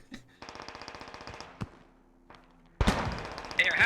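Rifle fire in the video game Squad: a rapid string of about a dozen sharp shots, then a lone shot and a short pause before a louder, denser blast of gunfire close by.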